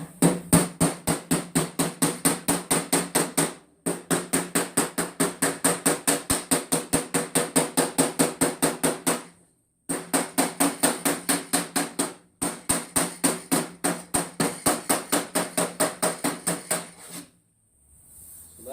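A hammer folds a sheet metal lip over a car body skin on a 'Cuda restoration. Loud, rapid, evenly spaced metallic blows come in long bursts, with short pauses between runs.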